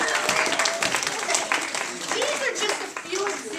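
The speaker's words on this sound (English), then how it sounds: "Round of applause." A school pep rally crowd breaks into clapping and cheering, loud and continuous for a few seconds, with voices calling out over the applause.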